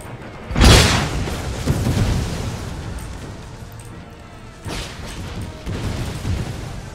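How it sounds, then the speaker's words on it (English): Artillery firing in the Empire Total War video game, a deep booming blast followed by rumbling battle ambience and a second softer boom later. "Fire at that unit of dervishes."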